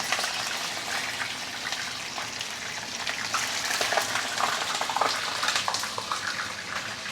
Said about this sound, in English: Once you heat up the oil, you can put in the fish slowly.